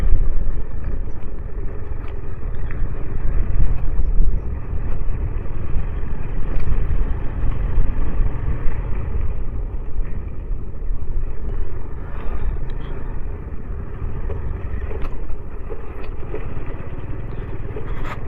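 A vehicle labouring along a badly damaged rocky road through a stone quarry area in Pudukottai, its engine giving a steady close rumble with jolts and rattles from the rough surface throughout.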